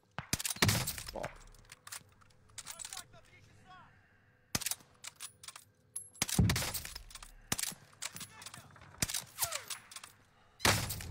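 Gunfire in the Fortune's Keep video game: sharp shots and short bursts scattered through the clip, fairly quiet and uneven, separated by brief gaps.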